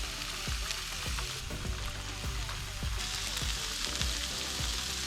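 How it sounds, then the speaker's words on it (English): Buttered lobster-roll buns toasting on a Blackstone griddle, a steady, low sizzle of even hiss with faint scattered ticks and crackles, fairly quiet throughout. "We're going to put a little bit of butter on each side and get those down on the griddle now."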